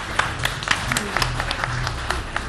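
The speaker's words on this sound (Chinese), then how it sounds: "我们掌声送给这位藏友" An audience at a Chinese antiques appraisal show applauds a collector. The clapping is moderate and steady, with distinct individual claps standing out, and faint speech sits under it.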